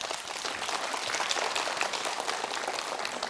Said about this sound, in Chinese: 来给徐师鼓掌一下。